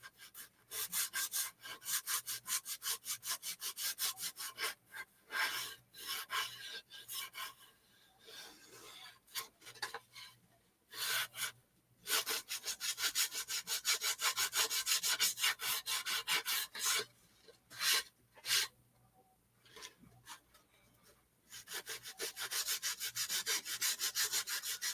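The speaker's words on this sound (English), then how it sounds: "So we're just taking a little bit of sandpaper." Sandpaper rubbed back and forth on a wooden door hanger, close and steady rasping strokes in long rhythmic runs broken by short pauses.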